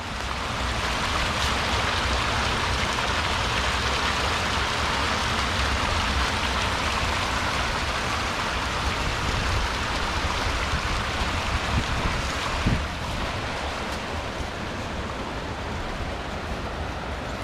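Steady broadband rush of Hammer Creek flowing along a hiking trail in Brubaker Valley, constant and close with no voices.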